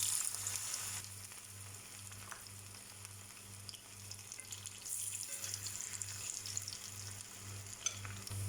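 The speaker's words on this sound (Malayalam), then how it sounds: "തിളച്ച എണ്ണയിലേക്ക് കോളിഫ്ലവർ ഇട്ട് കൊടുത്ത് അത് ഫ്രൈ ചെയ്ത് കോരിയെടുക്കാം." Cauliflower deep frying in hot oil in a kadai gives a steady, fairly quiet sizzle with a continuous low hum beneath it and a brighter burst of crackle partway through.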